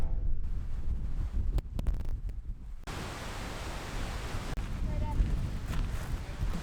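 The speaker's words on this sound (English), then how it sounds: "The weather is really blustery today." Steady, broadband wind rumble buffets the microphone, with gusty low-end roar and a few brief rustling bumps, loud and continuous throughout, in Acadia National Park, Maine.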